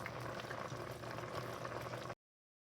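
Curry oxtails simmer in a pot, giving a steady, close bubbling boil that runs continuously for about two seconds before cutting off.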